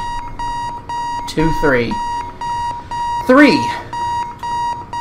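The bomb in Keep Talking and Nobody Explodes gives off a repeating electronic alarm beep in evenly spaced pulses, loud and steady, while a person talks over it twice.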